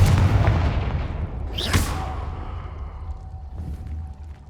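A Confringo spell blast in Hogwarts Legacy erupts as a single booming burst with a whooshing rush, rising out of loud ambient game noise and trailing off into a fading rumble.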